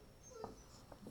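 A puppy whimpers softly, two or three brief, faint whines spread over a quiet moment.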